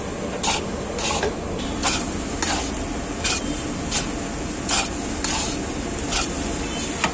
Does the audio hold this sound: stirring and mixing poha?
yes